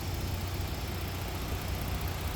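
A 2014 Ford Taurus Police Interceptor with a 3.5 liter engine idling, a steady low rumble with even, smooth hum and no revving, heard close and alone with no talking.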